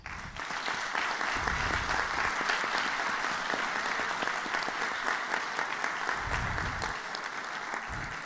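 An audience at a formal academic ceremony honouring a new member of the Real Academia de Bellas Artes de San Fernando claps in sustained, steady applause. A few low thumps sound beneath the clapping.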